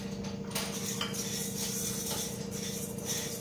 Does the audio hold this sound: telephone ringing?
no